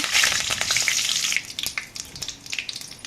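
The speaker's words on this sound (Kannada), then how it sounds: "ಸಾಸಿವೆಯನ್ನು ಹಾಕೋಣ ಮತ್ತು ಸಾಸಿವೆ ಚಿಪ್ಪಟ ಆದಮೇಲೆ ಕರಿಬೇವನ್ನು ಹಾಕೋಣ" Mustard seeds crackle and sputter in hot oil for a vangi bhath tempering, with curry leaves going in. A loud, dense hiss opens the sizzle, then it eases into scattered pops and crackles, close by and with no voices.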